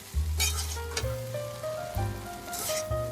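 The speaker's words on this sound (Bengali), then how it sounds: "এগুলো দিয়ে এভাবে ভালো করে উল্টিয়ে পাল্টিয়ে নেড়ে চেড়ে মিক্স করে নিতে হবে" Half-boiled rice mixture sizzles in a frying pan while a spatula stirs and turns it, with several scraping strokes and crackling bursts up close and no talking.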